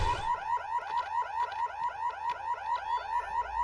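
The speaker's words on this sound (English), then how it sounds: "There's the other alarm." An alarm in the video game Fire Warrior, set in a prison complex, wails continuously in fast repeating rising sweeps, loud and steady with no voices over it.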